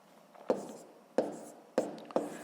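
A pen writing numbers on paper during a sixth-grade maths exercise, four quiet scratchy strokes each starting with a soft tap, close and alone.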